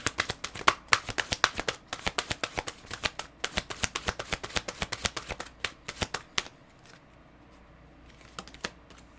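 Tarot cards with sticky backs are shuffled: a quick run of crisp, close riffling snaps for several seconds, then quieter scattered handling clicks as the cards settle.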